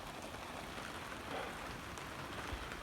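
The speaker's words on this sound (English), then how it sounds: "I can hear the rain on the roof, on my carport roof." Steady rain drums on a carport roof outdoors during a storm, a dense even hiss of patter that stays constant throughout with no voices.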